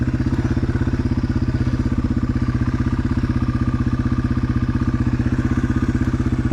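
A Yamaha TW200 dirt bike labors up a steep hill, its single-cylinder engine thumping in a steady, fast, close rhythm with rattling clatter throughout and no talk.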